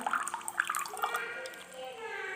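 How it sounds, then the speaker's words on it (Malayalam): A sensor-activated tabletop water dispenser runs water into a glass in a thin, trickling stream, with the tone rising as the glass fills, while a person talks over it. "ഈ സെൻസർ ഡിറ്റക്ട് ചെയ്ത് വേഗം ഈ വെള്ളത്തിൻ്റെ ടാങ്കിൻ്റെ മോട്ടർ കൊടുക്കും അങ്ങനെ വെള്ളം തരും"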